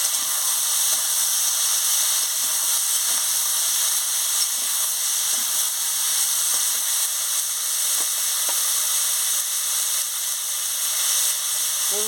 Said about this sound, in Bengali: সবজিগুলো দিয়ে আমি ভালো করে কষিয়ে নিচ্ছি।